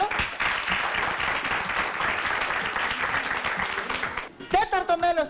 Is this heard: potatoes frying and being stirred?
no